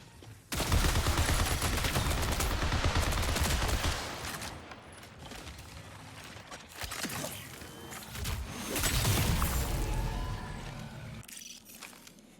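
Rapid, sustained gunfire in the shooter game Marathon, dense bursts crackling in two long loud volleys separated by a brief lull, with no speech.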